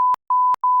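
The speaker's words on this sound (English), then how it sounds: "You can beep it. Just beep it, bro." Censor bleeps on a podcast interview: three loud, steady electronic tones in quick succession, each cut off sharply, with clicks at the start and end of each, and nothing else around them.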